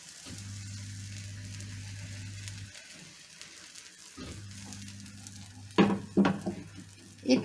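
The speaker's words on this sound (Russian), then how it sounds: "И печем блины." Liver pancakes sizzle steadily in sunflower oil in a frying pan, a continuous close-up crackle that pauses briefly, then resumes, with a few sharp clinks of utensils against the pan near the end.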